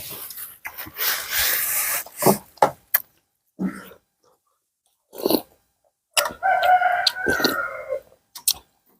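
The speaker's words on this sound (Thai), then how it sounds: "ตื่นเช้ามาได้ยินเสียงไก่" A rooster crows a few times in short, fairly loud bursts separated by quiet gaps, with other fowl sounds nearby.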